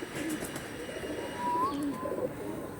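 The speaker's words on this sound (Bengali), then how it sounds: "ছোট্ট মাদা অরিজিনাল লালশিরা পায়রা বন্ধুরা" Lalshira pigeons cooing in a loft, a few soft low coos rising above steady background noise.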